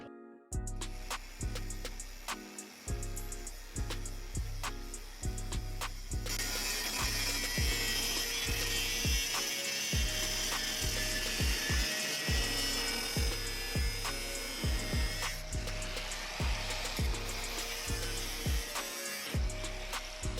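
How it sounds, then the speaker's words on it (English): An angle grinder cuts through the metal roller of a homemade firewood rack with a loud, sustained harsh whine, broken by a string of sharp knocks and clanks that fall in and out across the whole stretch. "Just cut that off with a grinder."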